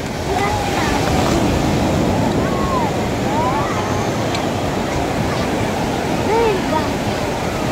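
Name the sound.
sea waves breaking where children bathe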